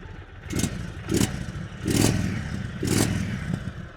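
An Indian Chief Bobber motorcycle with a stock exhaust comes to life at the press of its one-touch start, then its engine thumps and revs in repeated swells nearby.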